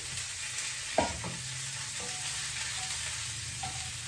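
Cauliflower pieces land in hot oil with a clattering thump, then settle into a steady close sizzle with small pops and a few scrapes; nobody speaks.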